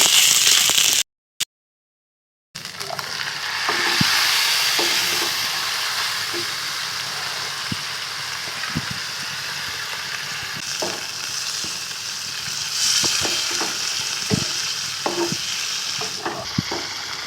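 Pumpkin greens with green chilli pieces stir-fried in a pan, a steady close sizzle broken by repeated scraping knocks of a spatula, with a brief silent gap near the start.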